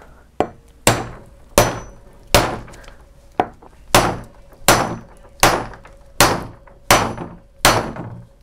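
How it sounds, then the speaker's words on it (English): A cheap crimper is struck with a hammer to crimp an electrical terminal, giving about twelve loud, sharp metallic blows at a fairly steady pace, each ringing out briefly. "Make sure it's right centered on the part,"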